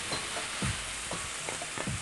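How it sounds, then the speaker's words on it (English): Onions going into a hot pan of reduced kale, sizzling steadily with soft stirring scrapes and a few rhythmic clatters, close and alone. "I'm going to add some onions."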